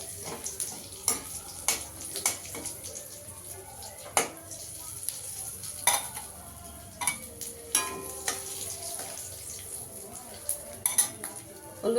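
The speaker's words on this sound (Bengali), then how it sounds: "একটু শুকনো লঙ্কা দিয়ে দেবো ফোড়ন, একটা তেজপাতা দিয়ে দেবো, গোটা জিরে দিয়ে দেবো" Dry red chili, a bay leaf and whole cumin temper in hot oil with a light sizzle, broken by repeated metal clinks and scrapes of a spoon against the pan while a voice talks intermittently.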